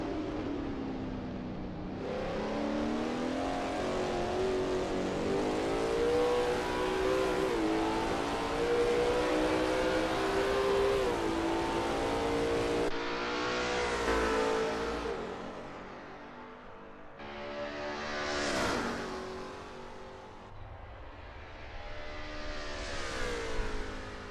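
A Lola T70 MkII Spyder race car at Riverside in a racing video game powers through a turn. The loud engine note climbs and drops repeatedly as it shifts gears and accelerates, with no voices.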